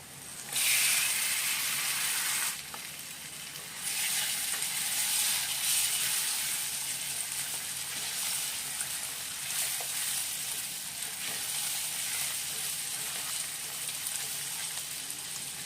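Prawns fry in spiced oil with Agri masala, a steady bright sizzle that stays continuous throughout, growing louder after a short dip early on, with faint stirring clicks and no talking.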